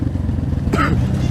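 Motorcycle engine idling and rumbling steadily on a trail ride in rainy conditions, close and continuous, with a brief rise in higher-pitched noise partway through.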